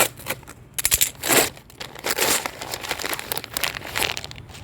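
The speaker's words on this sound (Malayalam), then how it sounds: "നമുക്ക് നേരെ അൺബോക്സ് ചെയ്യാം." A package of sticky notes is unboxed, its plastic and paper wrapping crinkling and tearing in close, uneven bursts with no one talking.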